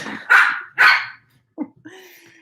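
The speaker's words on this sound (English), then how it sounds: "He's barking at the cat too." A dog barks indoors, two loud, sharp barks close together, then a brief softer yip and a short whine-like call at the end, with nothing else in the quiet gaps.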